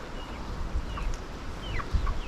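Hens clucking in a backyard chicken coop, a few short chirpy calls rising and falling at moderate distance over a low background rustle, no voices.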